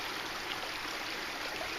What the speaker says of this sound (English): there is you see the water coming straight out of that crack in the rock there.